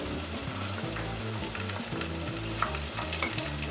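Green chili and green peas frying in a pan, a steady close sizzle with stirring scrapes, no talking.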